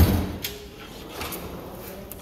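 A Snap-on tool box drawer holding wrenches and sockets slides open with a short metallic rattle and glide at the start, then a light steady hiss, close by.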